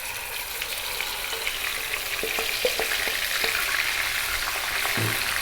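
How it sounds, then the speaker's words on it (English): Liver curry mixture (kaleji masala) fries in hot oil with a constant close sizzle and scattered light clicks from stirring, with no voices. "We're going to fry this around for about 5 minutes. Keep it moving."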